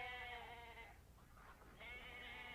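A sheep bleats on a farm: two wavering, harmonic calls separated by a short pause, quiet and somewhat distant, with no voices.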